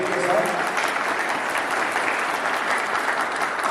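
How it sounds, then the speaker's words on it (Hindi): Steady, dense applause from a stage audience at a fair, loud and continuous throughout with no pauses. "उससे पहले आपकी तालियां थोड़ा सा बीट बॉक्सिंग के साथ"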